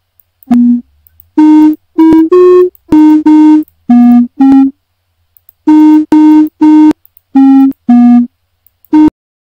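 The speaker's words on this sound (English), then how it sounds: "Sounds can also be system generated, such as those used in this piano game." A string of short, synthetic system-generated piano-like tones from a Pygame Zero piano game, played one at a time in an uneven melody with brief gaps, clean and loud.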